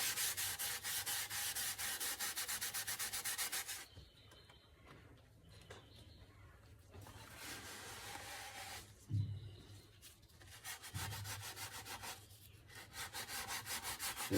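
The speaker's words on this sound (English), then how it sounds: "into the denatured alcohol, and we just wipe it on." Cloth soaked in denatured alcohol wiping old finish off a guitar, close rhythmic rubbing strokes, quick back-and-forth scrubbing, then slower, intermittent wipes with soft bumps, faint and without talk.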